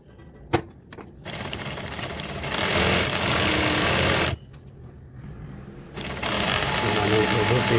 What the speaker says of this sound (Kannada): ಎರಡು ಸೈಡು ಮಾರ್ಕಿಂಗ್ ಏನು ಮಾಡ್ಕೊಂಡಿದ್ದೀನಿ ಅದರ ತಕ್ಕನಾಗಿ ನಾನು ಸ್ಟಿಚಿಂಗ್ ಹಾಕ್ಕೊಳ್ತಾ ಇದ್ದೀನಿ